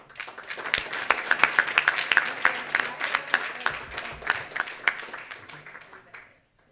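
An audience at a startup awards event applauds the bronze winners with a crisp burst of many-handed clapping that swells, then tapers off into silence.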